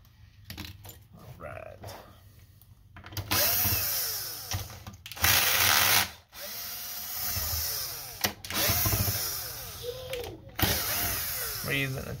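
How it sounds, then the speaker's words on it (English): A powered Torx T9 bit backs screws out of an Xbox Series X console. Short whirring driver bursts repeat up close and are mixed with small metallic clinks and rattles, while a voice talks in between. "We're using a T9 bit to take all these out."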